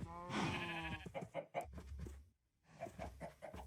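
A sheep in the MineFantasy Minecraft mod bleats loudly up close in a wavering cry, followed by several shorter quieter bleats and animal calls with a brief pause between them.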